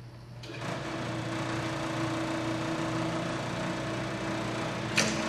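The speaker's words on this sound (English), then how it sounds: "we're going to turn the machine on, hit the start button" A BioPro 190 automated biodiesel processor runs with a steady, close mechanical hum and whir, starting up after a brief click and holding an even drone throughout, with a small clunk near the end and no talk.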